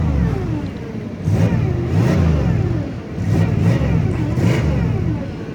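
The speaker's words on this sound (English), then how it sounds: "I'm sure you can hear that, I do have a aftermarket Flowmaster on it" A 1994 Cadillac DeVille engine fitted with an aftermarket Flowmaster exhaust rumbles close by, with a deep, throaty idle broken by several repeated revs that rise and fall in quick succession.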